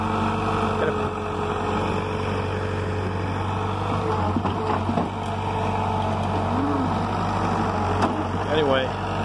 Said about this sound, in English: my New Holland is still, trusty New Holland is still going